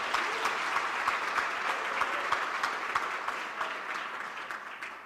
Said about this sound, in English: So let us give all ourselves and our acting premier a round of applause for this event